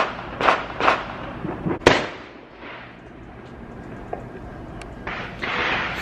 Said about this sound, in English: this is all you hear outside of my house. Ain't no fireworks. Straight gunshots.